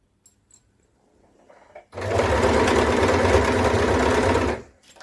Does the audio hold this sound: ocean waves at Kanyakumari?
no